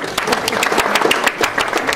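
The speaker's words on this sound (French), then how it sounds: "Vous pouvez l'applaudir." Audience at a starred chef's event in Le Bourget-du-Lac applauding the book's photographer, a dense run of clapping with some crowd murmur, moderately loud and steady for about two seconds.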